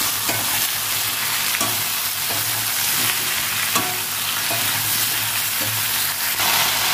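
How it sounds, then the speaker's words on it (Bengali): Potatoes and okra fry in a pan with salt, a steady close sizzle broken by repeated scrapes and knocks of a spoon stirring through the pieces, with no talking. "এবার আমি নুন দিয়ে দেবো, ভালো করে ভেজে নেব।"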